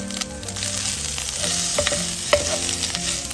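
Chorizo frying over a high flame and being stirred in the pan, with a loud, steady sizzle broken by scraping stirs and small pops, close and continuous with no talk.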